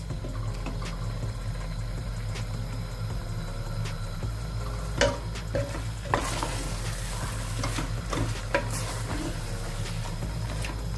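Prawns fry in a pan for Jamaican pepper shrimp, a steady close sizzle broken midway by several sharp scrapes and clatters as they are stirred.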